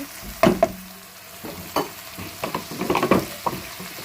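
Ginger garlic paste being fried for a fish gravy: soft sizzling under a series of irregular spatula scrapes and knocks against the pan, close, with quiet gaps between strokes.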